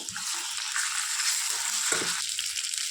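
Onions with a spoonful of ginger-garlic paste fry in a pan for a cauliflower and capsicum curry, giving a steady, close sizzle with faint stirring scrapes throughout and no talking.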